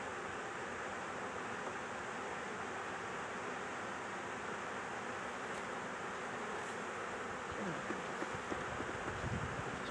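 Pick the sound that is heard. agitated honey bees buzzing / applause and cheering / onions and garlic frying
agitated honey bees buzzing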